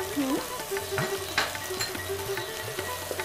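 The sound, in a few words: ginger and garlic paste sautéing in a pan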